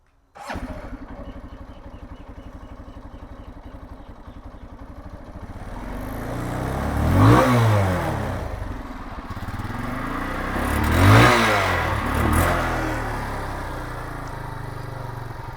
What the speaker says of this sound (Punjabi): ਇੱਕ ਵਾਰੀ ਸਟਾਰਟ ਕਰਕੇ ਤੁਹਾਨੂੰ ਇਹਦਾ ਐਗਜ਼ੌਸਟ ਨੋਟ ਸੁਣਾ ਦਿੰਦਾ